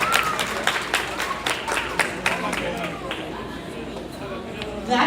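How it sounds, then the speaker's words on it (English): An audience at a kindergarten semester awards ceremony claps and applauds, a crowd's irregular patter of hands with a speaking voice over it, fairly close and moderately loud. "One more big clap for all kindergarten students"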